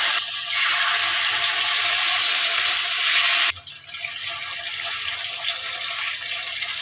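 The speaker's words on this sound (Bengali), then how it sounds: "তো আমি এখন তেল দিয়ে দিব। এখন আমি ম্যারিনেট করা মাংসগুলো দিয়ে দিব।" Marinated chicken hits hot oil in a wok over a gas flame with a loud, hissing sizzle that lasts a few seconds, then drops abruptly to a quieter, steady frying sound.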